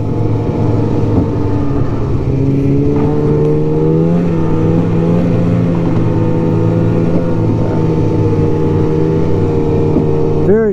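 A 1999 Polaris Indy Classic 500 touring snowmobile rides along a rocky trail, its engine droning loud and close at a steady pitch with slight rises, and no one speaks.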